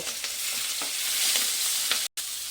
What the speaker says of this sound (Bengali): ওই তেলের মধ্যেই আমি এই চিংড়িগুলো, নুন হলুদ মাখানো চিংড়িগুলোকে দিয়ে একটু ভেজে নেব।